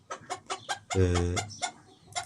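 Chickens in a coop, one hen and two roosters, give a run of sharp clucks with a drawn-out crowing call in the middle, close and clear with no talk.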